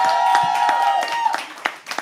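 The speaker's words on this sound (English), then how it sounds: "Keep clapping till she comes on stage" Audience at a live poetry open mic night clapping for a poet walking on stage, close sharp scattered claps that thin out toward the end over a held background tone.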